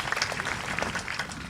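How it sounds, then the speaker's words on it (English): A graduation audience at a high school ceremony applauds the lacrosse champions, with brief, dense clapping from many hands filling the hall at moderate volume. "Let's give them a round of applause."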